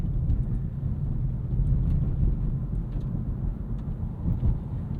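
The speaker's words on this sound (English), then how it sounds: "You've got a little bit of road intrusion and wind intrusion in this car." Inside a 2026 Nissan Sentra SL on a snowy night drive, a steady low road roar and wind rumble fill the cabin, constant and moderately loud with no talk.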